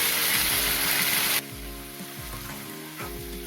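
Tomato and tamarind fry in a pan, a loud close sizzle at first that abruptly drops to a quieter simmering hiss while a low hum runs underneath.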